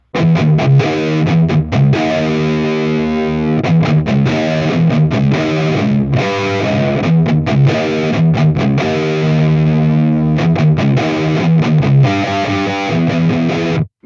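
A heavily distorted electric guitar plays a chugging riff at a slowed, dragging pace, with loud, continuous, gritty chords and short gaps between phrases.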